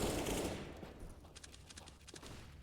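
Rifle fire in a CS:GO tournament match, with dense automatic bursts up front that thin into scattered, rapid crackling shots and sporadic pops.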